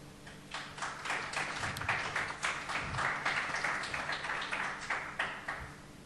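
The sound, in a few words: audience applause for the two guests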